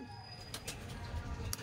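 Soft pigeon coos and faint wing sounds come from a loft where racing pigeons arrive after a 185 km training race in Tagkawayan, Quezon, heard quietly against low background ambience.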